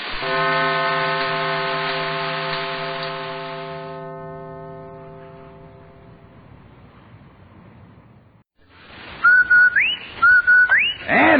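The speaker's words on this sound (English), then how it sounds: "That whistle. That's the Rinso White whistle." The Rinso White advertising whistle from an old CBS radio broadcast, a long sustained tone that fades out, followed after a pause by a bright rising and falling two-part whistled call repeated several times.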